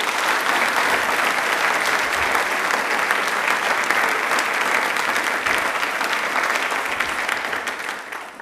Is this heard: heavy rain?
no